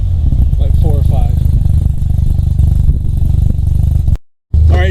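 A loud Mazda RX-7 FC3S rotary engine with a custom exhaust idles with a rough, pulsing exhaust burble while a person talks over it, then cuts out briefly before resuming.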